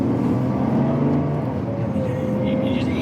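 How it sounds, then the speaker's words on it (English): Car engine revving and pulling out onto the road, heard close from inside, a throaty droning note that rises and shifts pitch over a few seconds, with some muffled voice beneath. "You just hear the engine."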